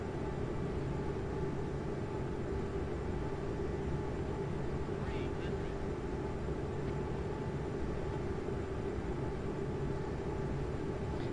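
Steady, continuous engine roar of an airliner descending toward an instrument landing in Microsoft Flight Simulator, a broad even drone with faint tonal whine that holds unchanged throughout.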